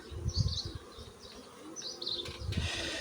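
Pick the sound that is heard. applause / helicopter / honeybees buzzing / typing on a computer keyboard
honeybees buzzing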